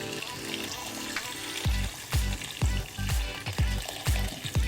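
Water poured into a hot pan of Jamaican oxtail with plantain, setting off a steady close sizzle with repeated bubbling pops and splashes that grow busier toward the end.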